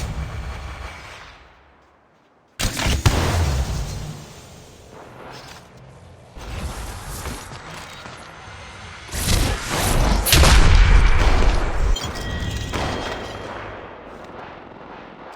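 Gunfire in the Apex Legends battle royale game during a sniper-and-pistol-only match: loud, heavy shots and booming blasts with whooshes, starting abruptly after a brief quiet gap and continuing in dense bursts.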